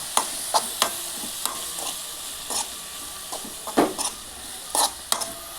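Tomato chutney with curry leaves and chilli powder being stirred in a pan, a low continuous sizzle under repeated spatula scrapes and metallic clinks at an uneven rhythm, close with no talk.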